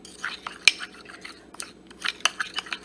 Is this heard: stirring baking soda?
yes